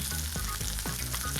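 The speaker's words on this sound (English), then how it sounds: "while our sausages and potatoes are frying away" Sausages and blanched baby potatoes fry together in one pan, giving a steady close sizzle broken by a few soft scrapes of stirring.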